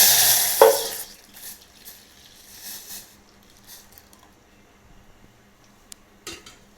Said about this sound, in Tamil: ரவையை போட்டு கிளறிக்கலாம்.